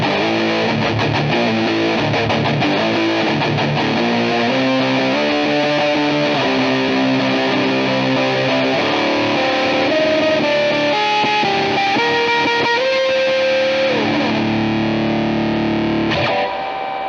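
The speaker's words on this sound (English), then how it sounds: "It's just overall a great, like, starter distortion pedal because it just gets you that nice heavy tone" Electric guitar played through a Behringer Ultra Metal UM300 distortion pedal, a heavy saturated tone with sustained chords and single-note lines running continuously for about seventeen seconds, alone with no talk.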